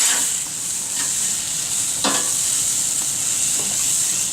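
A burger patty sizzling hard in a hot pan just after being flipped, with a dense, constant frying hiss and a few faint utensil clicks.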